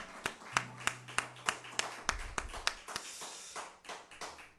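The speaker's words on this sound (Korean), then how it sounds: "하나님 앞에 영광의 박수 드립니다" A church congregation claps during a Sunday morning worship service, a dozen or so sharp, fairly faint hand claps in a loose, slightly uneven rhythm with a low hum beneath.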